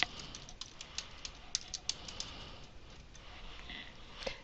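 Quiet, uneven keystrokes tap on a computer keyboard while text is typed into a word processor document, with scattered clicks over a soft background hiss.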